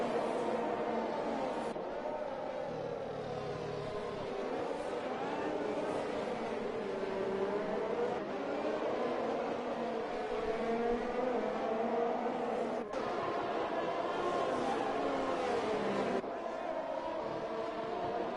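Race cars lap the Abu Dhabi circuit, a steady engine drone rising and falling in pitch as they run close together through the corners, with a commentator talking continuously over it.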